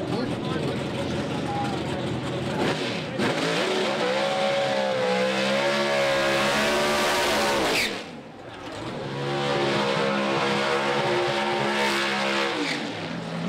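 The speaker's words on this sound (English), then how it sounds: "couple of nice burnouts there" Pro stock drag racing cars roaring through burnouts at a doorslammer nationals event, a loud sustained engine howl that dips briefly and rises again, heard from a distance under announcer commentary.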